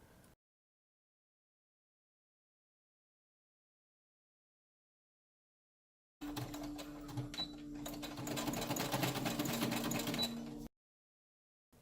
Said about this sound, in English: She then sewed the outside edge closed and sewed some long lines just to kind of jazz it up a little bit and give it a little bit more body